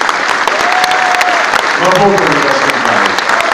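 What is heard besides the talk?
audience applause in hall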